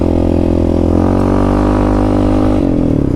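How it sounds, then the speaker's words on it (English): A Yamaha Raptor 700 ATV fitted with a Dasa pipe and EHS tune drones loudly and steadily up close while riding, its engine pitch shifting as the throttle changes, with no voices. "I wanted to get out and do a longer ride, do a little more testing, see how it reacts"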